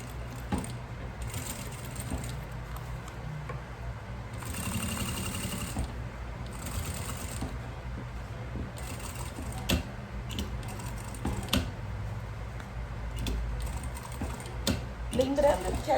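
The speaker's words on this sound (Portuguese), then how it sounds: "eu vou passar costura toda a volta aqui" A sewing machine stitches around a floral makeup bag, giving a steady close mechanical whirr and rapid needle clatter that runs throughout with brief speed changes and pauses, with no talking.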